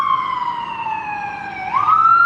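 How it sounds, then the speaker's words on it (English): An ambulance siren wails through a San Francisco street, a loud sustained tone sliding gradually downward as it passes, then jumping back up to a higher pitch near the end, with steady traffic rumble beneath and no talking. "Oh, an ambulance."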